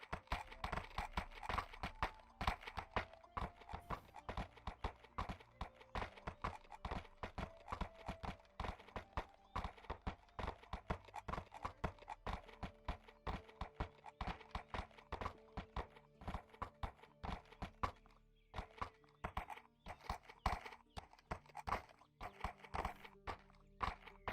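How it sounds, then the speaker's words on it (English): Horse hooves clip-clop steadily in a medieval video game, a dense run of close, even hoof strikes that carries on alone for the whole stretch with only faint background tones. "Gonna drop the horse off, Sif."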